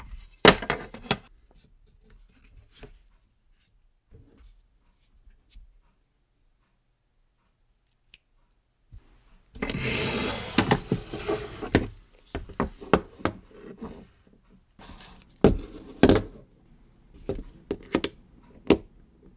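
Yellowed PlayStation 1 controller being taken apart, scattered plastic clicks and taps with a stretch of rustling handling midway, close and otherwise quiet.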